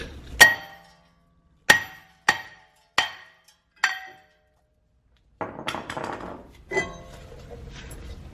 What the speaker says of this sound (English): we're going to tap this rotor off